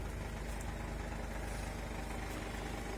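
A 2018 Mercedes-Benz Sprinter 316 van with automatic transmission, its engine idling steadily and close up with a constant low hum and no talk.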